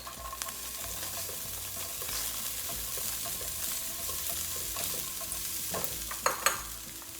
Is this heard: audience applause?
no